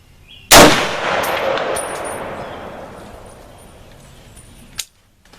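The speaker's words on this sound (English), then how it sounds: "I'm just going to let this run and do some shooting" A single sharp, loud gunshot from a pistol firing PMC Bronze ammunition over a chronograph, ringing out into a long decaying echo, followed by a small metallic clack near the end.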